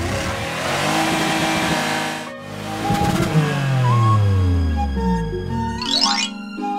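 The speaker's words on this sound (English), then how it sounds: "Police monster truck." Police monster truck engine roaring and revving in loud, close sweeps, with a short break before the pitch climbs and then winds down.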